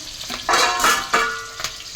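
Cumin and five-spice seeds fry in oil in a home kitchen while a vegetarian ash gourd curry is made, giving bursts of crackling and spitting that swell and fade over about two seconds, close and moderately loud.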